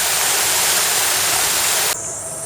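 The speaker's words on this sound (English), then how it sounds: "I've come to the Peace Fountain." Water jets of the Peace Fountain in Nagasaki, arranged in the shape of a dove's wings, make a steady, close outdoor rush and splash that continues throughout and softens slightly near the end.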